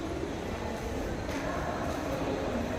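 A Mumbai suburban local train bound for Virar, heard from Andheri station as a steady, dense rumble and rattle of rail noise that fills the whole stretch evenly, close and unbroken, with no clear talk.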